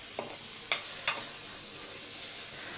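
Paneer fries in a pan with a steady, hissing sizzle, broken by a few brief clinks as the pieces are stirred and turned.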